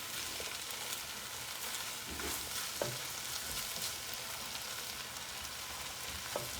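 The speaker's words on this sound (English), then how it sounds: "Mix it all together." Shrimp and zucchini sizzle steadily in a hot sauté pan as they are stirred, with scattered scraping taps of the utensil against the pan over a continuous frying hiss.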